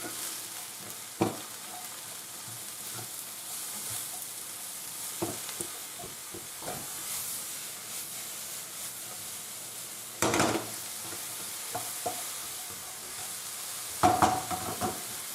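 Stock goes into softened mushrooms in a pan for beef stroganoff, with a soft steady sizzle and scattered utensil knocks, including a couple of louder clatters later.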